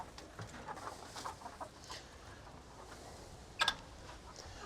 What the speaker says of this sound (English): There goes the chickens.